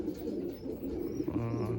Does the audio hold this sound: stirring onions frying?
no